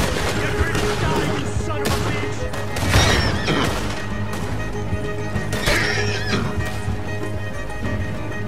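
In the video game Red Dead Redemption II, a horse neighs and whinnies loudly amid bursts of gunfire and crashing impacts, with hooves clopping in a busy, chaotic scene.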